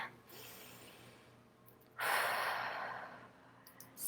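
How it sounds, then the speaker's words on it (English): A deep breath taken during an EFT tapping session, heard close and quiet: a soft inhale followed by a stronger, breathy exhale, with no words spoken. "take a deep breath."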